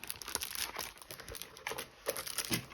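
Paper poster and cards for a 4K Blu-ray steelbook crinkle and rustle as they're pushed into an envelope, producing quiet, close, irregular bursts of crumpling.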